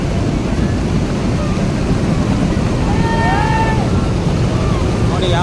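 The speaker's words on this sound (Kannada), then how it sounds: "ನೋಡಿ ಯಾವ ಥರ ಹೋಗ್ತಾ ಇದೆ ಮಾರಿಕಣಿವೆ ಡ್ಯಾಮ್ ನೀರು, ಭಾಳ ರಭಸವಾಗಿ ಹೋಗ್ತಾ ಇದೆ" Water overflowing from Marikanive dam rushes forcefully, a loud continuous roar with some wind buffeting on the microphone.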